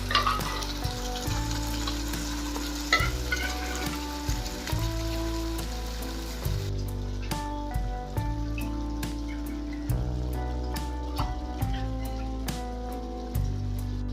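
Chuka (green sorrel) leaves with asafoetida fry in a hot pan, a steady sizzle for the first half that thins into scattered crackles and stirring clicks, all under continuous tonal background music.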